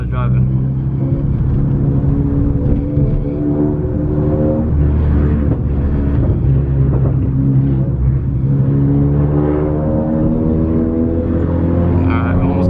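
Tenth-generation Honda Accord with a clutch-related modification driving, its steady engine drone and road rumble loud and close throughout, with rising tones as it pulls through the gears.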